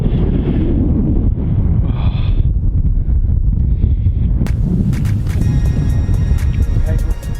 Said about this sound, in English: I don't know if you can hear this wind